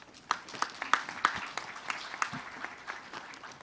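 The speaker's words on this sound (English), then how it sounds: "Let's welcome him with a big round of applause" An audience at a conference summit applauds to welcome a speaker, with steady clapping from a moderate crowd and distinct sharp claps standing out near the front, fairly quiet and fading slightly toward the end.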